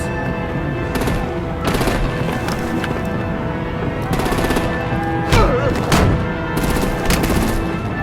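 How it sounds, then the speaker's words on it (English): Artillery and gunfire in a game battle scene: sharp, repeated blasts and bursts crack over a dense, constant background din, with louder volleys clustered around the middle and end. "Break out the artillery and disable their vehicles!"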